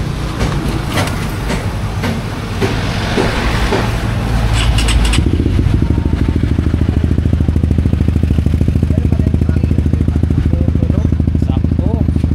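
A Honda Winner X motorcycle fitted with a Replica Pro exhaust pipe runs loud and close, shifting from a rough, noisy start into a steady, rapid exhaust pulse as the engine is revved.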